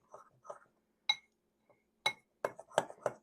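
Dry cupcake ingredients being stirred in a glass bowl, a handful of sharp clinks and taps of a utensil against the glass with soft scraping between them, close and quiet with no talk.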